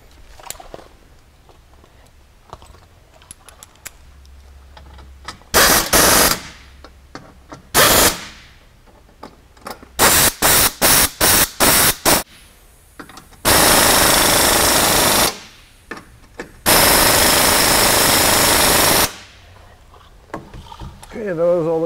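Power tool tightening bolts on a Ricochet skid plate being fitted to a CFMOTO ZF800 Trail motorcycle, loud rattling impact bursts, some short and clustered, others held for a couple of seconds, close up with quiet handling noises between.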